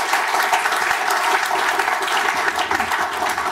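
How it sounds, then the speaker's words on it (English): An audience at a Royal Television Society panel event on the future of TV claps for the panellists, a loud, dense and sustained round of applause filling the room without talk. "please, a big round of applause."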